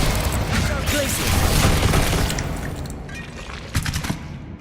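Glacius ice spell cast in Hogwarts Legacy combat: a loud, dense magical burst with crackling, rumbling impacts that fades and then ends in a sharper pop.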